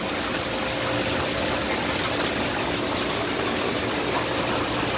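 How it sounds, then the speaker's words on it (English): A second set of jets running in a Coast Apex L Curve hot tub, with a dense, continuous rushing of water and pump hum that stays steady and close throughout. "Turn on our second set of jets."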